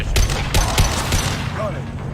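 Gunfire in Mass Effect 2 (2010): several loud, close shots crack out in quick succession, then the firing trails off into a lower rumble while a voice talks underneath.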